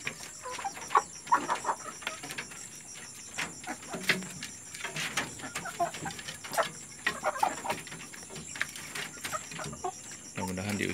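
Merawang chickens, three and a half months old, cluck in short scattered bursts from close by against a light farmyard background.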